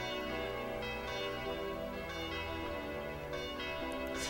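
A bell rings continuously in the Tokimeki Memorial 2 video game, its sustained, overlapping tones filling the few seconds at a steady level.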